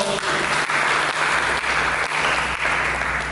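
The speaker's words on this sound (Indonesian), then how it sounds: "Mari kita berikan tepuk tangan." A church congregation at an Indonesian sermon breaks into sustained applause, a thick, even roar of many clapping hands with little variation, close and loud for the whole stretch.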